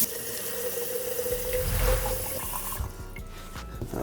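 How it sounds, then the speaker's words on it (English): Tap water running into a container being filled up to a fill line, a steady splashing stream that swells, then stops abruptly and leaves a quieter trickle. "We're just going to fill it up"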